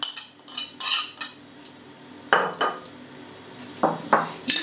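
Greens mashed with crushed egg are scraped into a plate for okroshka, the Russian cold soup, giving a few sharp clinks and taps of utensil against dishware, separated by quiet pauses.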